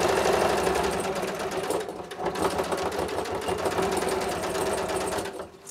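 A sewing machine runs steadily, stitching a hood seam on a quilted vest at a 2.8 stitch length, a close, continuous mechanical whir with a brief slowdown partway through and a stop at the end.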